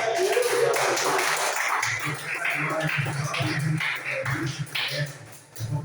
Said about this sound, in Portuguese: Quem está feliz com Jesus, dá uma salva de palmas